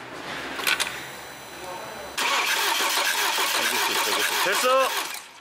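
BMW F30 320i with the N20 engine cranking during a compression test, first a brief clicking and whirring, then the starter and engine turning over loudly and steadily with a rhythmic cranking pulse, with a voice in the background.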